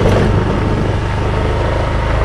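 A motorbike rides along a red-earth village road in Lanja, Konkan, its engine a steady, loud drone with constant wind rumble and no talking.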